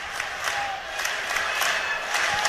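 A crowd at a college wrestling dual meet, Iowa versus Northwestern, cheers and applauds in a steady, loud roar of massed voices and clapping, with a few sharper shouts rising above it.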